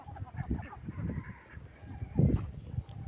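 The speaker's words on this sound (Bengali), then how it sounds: "আমার হাঁসগুলো আসলেই খুব লক্ষ্মী হাঁস।" Domestic laying ducks in a netted pen give repeated nasal honking quacks in bursts, close and fairly loud, overlapping one another with short pauses between calls.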